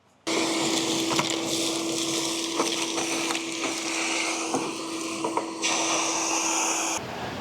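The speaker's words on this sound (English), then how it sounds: "I'm going to go ahead and turn that on so that way I can vacuum that out" A shop vacuum sucking ashes out of an Oklahoma Joe's Tahoma 900 grill roars steadily and close with a constant hum, the pitch shifting slightly as debris rattles through, then cuts off near the end.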